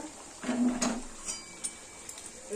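A spoon stirs hilsa fish in mustard sauce in a pan, giving a few soft scraping and clinking contacts against the metal, close and fairly quiet, with brief pauses between strokes.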